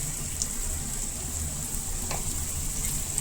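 Tuver thotha masala with plenty of green garlic is stirred in a pan, making a steady close sizzle with a few faint scrapes and taps and no talking.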